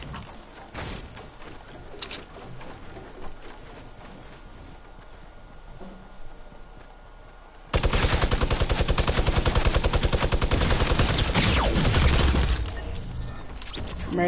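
Fortnite gunfire starts sparse and distant, then breaks into loud, fast repeated shots with sharp cracks for several seconds before easing off slightly, with no voices over it.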